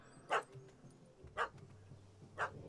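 Three separate barks from a dog in The Witcher 3: Hearts of Stone, spaced about a second apart over a quiet game background, moderately close and clear.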